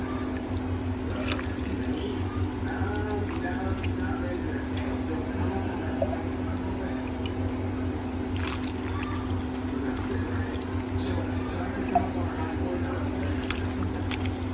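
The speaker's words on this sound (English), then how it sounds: "and then I pour it in the jar" Rendered pork lard pours into a jar with a soft, continuous liquid trickle and faint drips over a steady low background hum.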